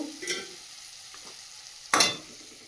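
Pieces of desi (country) chicken go into spice paste frying in oil, giving a soft sizzle and stirring scrapes, then a sudden louder hiss near the end as more meat hits the pan.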